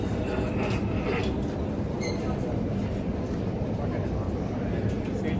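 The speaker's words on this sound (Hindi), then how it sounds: "मैं पहली बार बैठूंगा इस मेट्रो में।" Inside a metro train carriage on a ride from the airport, a constant loud rumble and rolling rattle fills the whole stretch, with faint squeals and clicks on top.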